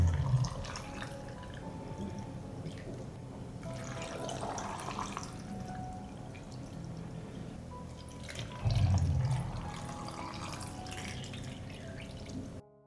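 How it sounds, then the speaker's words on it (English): Water is poured into glass jars of sweet cherries, with soft trickling and dripping at low level and a couple of brief louder splashes. "I pour water into the jars to cover the sweet cherries."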